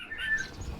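A white-rumped shama, or murai batu, at a breeding site gives short, high chirps, fairly faint and mixed with a soft background hum.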